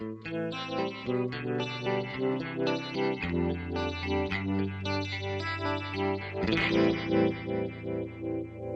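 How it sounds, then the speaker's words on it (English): An electric guitar plays sustained chords and notes through an Electric Mistress flanger pedal, its whooshing, jet-like swirl rising and falling, distorted and fairly loud. "see if we can get kind of a classic flanger"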